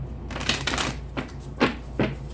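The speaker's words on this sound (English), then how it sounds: "Let's do 3 more shuffles." A deck of tarot cards shuffled in several quick riffling bursts, crisp and close, with short pauses between them.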